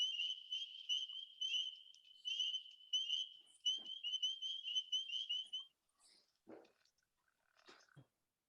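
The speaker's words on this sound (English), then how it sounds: "And here's a pickerel frog with peepers in the background." A pickerel frog gives a short series of croaking calls among a continuous chorus of high, pulsing spring peeper peeps, with a few quieter, scattered calls once the chorus stops near the end.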